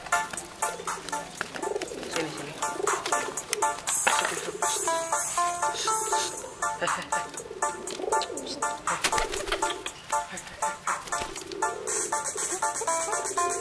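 Racing pigeons coo repeatedly at close range amid busy rustling and fluttering, with a brief voice calling out once.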